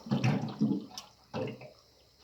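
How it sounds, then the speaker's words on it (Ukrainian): Cold water running from a kitchen tap and pouring into a container, with splashing gushes in two bursts separated by a brief pause, close and moderately loud. "А так працює холодна вода, вона ж наливається і так."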